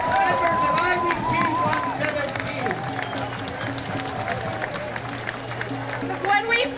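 Crowd applause and scattered cheers at an outdoor May Day workers' rights rally in Washington, DC, sustained clapping from many people with a speaker's amplified voice continuing over it.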